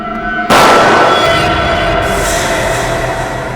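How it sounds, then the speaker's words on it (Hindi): Gunshot in a Hindi TV crime drama (CID): a single sudden loud blast that holds as a dense, roaring wash of noise for about three seconds, with no voices. "गोली चलने की आवाज।"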